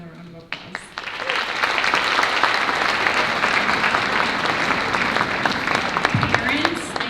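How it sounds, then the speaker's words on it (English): Audience at a school fall band concert breaks into warm applause, starting with a few scattered claps that swell into dense, steady clapping filling the hall, with a brief voice near the end. "If we can give them a round of applause."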